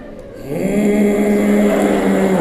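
A voice imitates a mobile phone on vibrate with one sustained, low buzzing hum lasting about two seconds, close and loud.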